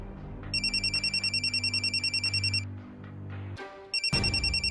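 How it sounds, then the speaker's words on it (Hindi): A telephone rings in a quick warbling electronic trill, one long burst for about two seconds, a pause under a low steady hum, then a second burst starting up, loud and close. "हाँ विक, फेयर बैनर्जी दा फोन"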